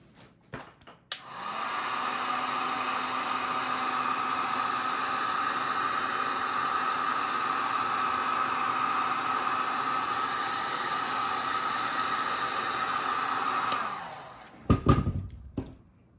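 A heat tool blows hot air steadily against the edge of a poured resin piece, a loud continuous whooshing hiss running about thirteen seconds, with a click as it starts and a few knocks and taps after it shuts off.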